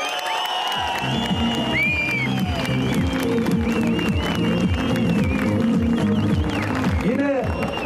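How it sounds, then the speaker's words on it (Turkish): Large crowd at an outdoor political rally applauding and cheering loudly and continuously throughout, with whistles, shouts and rhythmic music or chanting mixed in, dense and sustained. "Ben onlara şöyle güçlü bir alkış istiyorum."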